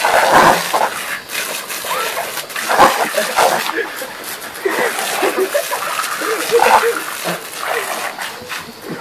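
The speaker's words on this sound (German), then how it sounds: "Er wird mit dem Wasser schlau abgespritzt." Water splashing as a person is sprayed during an eating contest, wet splattering bursts throughout, with voices and laughter over it.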